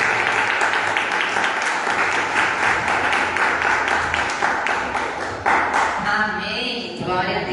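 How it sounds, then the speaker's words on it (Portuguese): A church congregation claps together in a sustained, lively burst, with voices mingling underneath as the clapping carries on and thins toward the end. "Querido, aplauda o Senhor."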